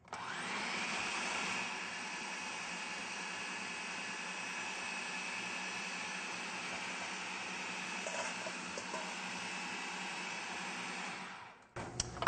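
A blender purées soaked cashews into a ricotta-style cashew cheese, a steady, loud motor whir running unbroken for about eleven seconds before it cuts off with a few clunks.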